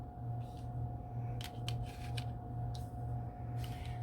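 Tarot cards being moved and gathered into a pile give light, crisp sliding and flicking sounds in short bursts, close and quiet, over a steady electrical hum with no talking.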